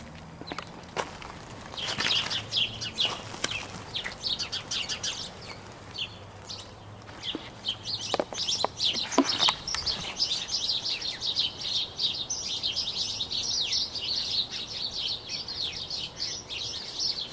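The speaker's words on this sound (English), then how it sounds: "So many birds everywhere." Many birds chirp outdoors in a dense, busy chorus that thickens in the second half, with footsteps crunching nearby in the first half.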